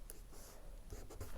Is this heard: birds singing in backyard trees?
no